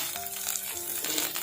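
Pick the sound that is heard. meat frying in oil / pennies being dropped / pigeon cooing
meat frying in oil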